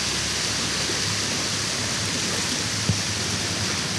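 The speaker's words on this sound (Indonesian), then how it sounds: "ini ombaknya udah datang, kita test shoot." Sea waves crash onto rocks in a constant dense roar, a broad wash of surf noise heard close by with no break or voices.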